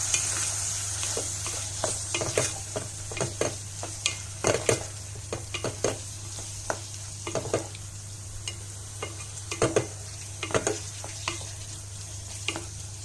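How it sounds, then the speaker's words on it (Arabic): A spoon stirs tomatoes frying with chicken liver in a pan over a steady background sizzle, with irregular scraping and clinking strokes close by and no talk. "حطينا الطماطم اهي كده، حطينا الطماطم بتاعتنا ونقلب"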